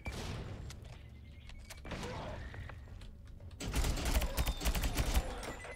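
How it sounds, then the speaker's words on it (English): A grenade explodes in the tower-defense shooter game Sentry. A loud, dense burst of blasts and crackling gunfire erupts in the second half, following quieter game noise. "Throwing a grenade at me again"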